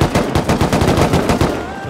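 Automatic rifle gunfire in the survival video game Rust, likely an AK, firing a loud, rapid, continuous burst of evenly spaced shots that fills the whole moment with no talk.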